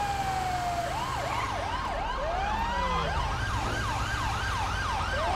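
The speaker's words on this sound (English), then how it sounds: "look at that ambulance going out on the call." A Ford F-750 ambulance in GTA 5 runs its wailing siren, rising and falling steadily over constant traffic and engine rumble, with no speech.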